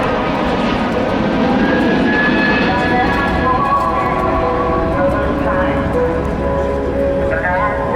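An Embraer E2 jet airliner flies past during a flight display at the 2023 Paris Air Show, a loud sustained engine roar with shifting whining tones as it passes, with a voice talking over it.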